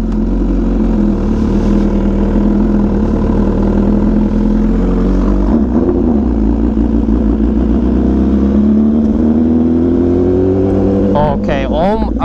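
An MV Agusta motorcycle being ridden gives off a loud steady engine drone. Its pitch climbs slowly as the bike accelerates, then breaks into quick rising and falling revs near the end, with wind buffeting throughout.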